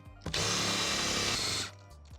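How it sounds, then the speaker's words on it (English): A power drill bores holes to let water drain, one loud continuous whine for over a second that starts and stops abruptly, heard alone without speech. "I just have to drill holes in them now because the water will not drain."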